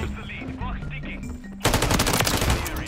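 Heavy automatic gunfire erupts in a Call of Duty: Modern Warfare 3 multiplayer match, loud rapid bursts that burst in suddenly after a quieter moment with a voice talking.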